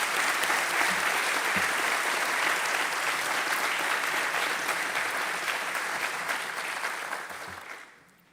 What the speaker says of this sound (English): applause and congratulations to you